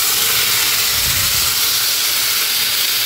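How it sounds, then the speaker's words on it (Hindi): Vegetables lightly fry in a pan with cumin for egg noodles, giving a loud, continuous close-up sizzle and hiss that stays even throughout. "इसमें डालेंगे सब्जियां, हल्का सा भून लेंगे"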